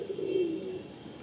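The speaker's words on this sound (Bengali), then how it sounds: "দুর্ধর্ষ পায়রা।" A pigeon in a breeding loft gives a single soft, low, rolling coo close by over quiet background hiss.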